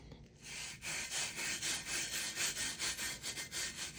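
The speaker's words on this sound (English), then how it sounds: "we are going to rub it into this glue" Glitter being rubbed by hand into glue on a tumbler, a steady rhythmic scratchy rasp of strokes repeating back and forth, close and fairly quiet.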